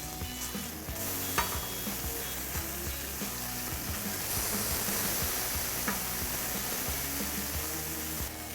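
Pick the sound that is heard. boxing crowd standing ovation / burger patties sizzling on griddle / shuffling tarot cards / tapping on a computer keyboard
burger patties sizzling on griddle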